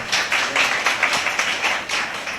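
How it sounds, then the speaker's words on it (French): An audience at a literary event honoring author Cheick Alpha Daha Kounta claps together in a steady, dense patter of applause with no voices on top. "Vous pouvez applaudir pour l'auteur, s'il vous plaît."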